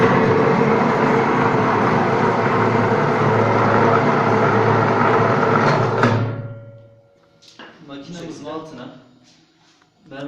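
An Odipar marble grinding and polishing machine runs with a loud, steady broadband whir and hum that cuts off abruptly partway through, after which a person speaks.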